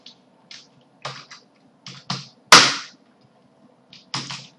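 Short bursts of keystrokes on a computer keyboard as the word drop is typed into a terminal, with several clicks closely spaced, then a louder key strike, then a final cluster, all close and fairly quiet.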